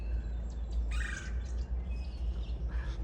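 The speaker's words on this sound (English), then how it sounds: "There's that mockingbird." A mockingbird and other garden birds chirp and whistle in short bright phrases at moderate distance over a low steady background rumble.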